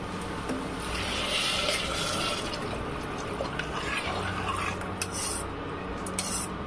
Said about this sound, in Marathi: यात आता आपण गरम पाणी टाकून घेऊ